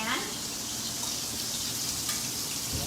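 Portobello mushrooms sizzle in a hot pan, a steady, close, crackling hiss that holds without a break.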